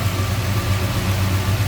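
A 1966 Dodge Charger's 426 Hemi with dual four-barrel carburetors idles close up, a loud, deep, lumpy rumble with a steady pulsing throb and no talking.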